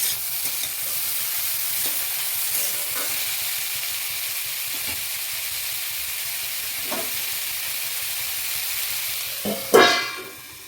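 Vegetables for chowmein fry in a pan with a steady soft sizzle and occasional stirring scrapes, ending in a louder close clatter.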